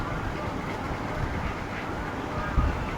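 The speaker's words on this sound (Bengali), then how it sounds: "এই যে ট্রেনে উঠে গেলাম" A passenger train carriage during a family trip, with a steady, dense rumble and rattle of rail travel filling the whole moment, fairly loud and constant with no clear voices.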